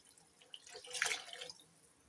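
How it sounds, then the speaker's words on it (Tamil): Three tumblers of water poured into a pot for lemon rasam, a brief soft splash that swells and fades, fairly quiet with no talking. "நம்ம எடுத்து வச்சுக்கிற மூணு டம்ளர் தண்ணியை வந்து இதோட சேர்த்துடலாம்"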